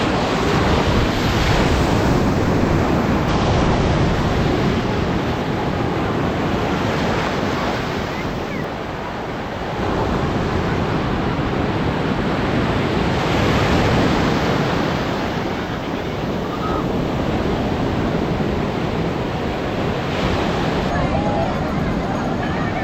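Sea waves roll onto the beach at Puri, a loud continuous roar of surf mixed with wind buffeting the microphone, with voices faintly audible beneath.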